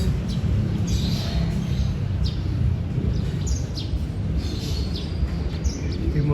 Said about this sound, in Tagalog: Ito yung mga kalapate ko.